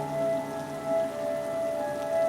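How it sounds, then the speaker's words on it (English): Pouring rain gives a steady, even hiss across the whole stretch, with soft sustained musical tones running beneath it. "After walking about a mile in the pouring rain"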